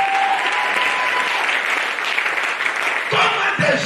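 Congregation applauding in a church, a dense, steady wash of clapping from many hands that holds for several seconds, loud and continuous with a few scattered voices underneath.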